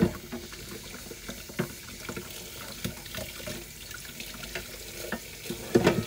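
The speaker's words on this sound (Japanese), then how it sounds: "洗い物をためないように煮込んでる間に洗い物するぜ。" Dishes washed under a running kitchen tap while food simmers, a steady water stream with scattered clinks and knocks of crockery, close by and without talk.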